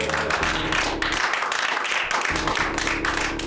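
Live bar crowd at The Alexander Bar applauding a band, dense clapping sustained for a few seconds, loud and close.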